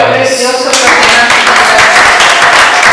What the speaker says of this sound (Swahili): Kama na wewe umebarikiwa, naomba uchape makofi.